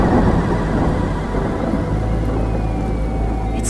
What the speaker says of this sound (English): It started raining hard.